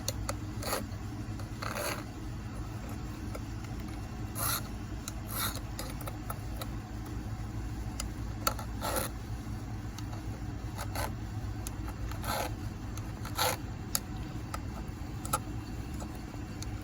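A hand file rasps across chainsaw chain rakers in short, repeated strokes, a few swipes per raker with brief pauses between, close and fairly quiet over a low background hum.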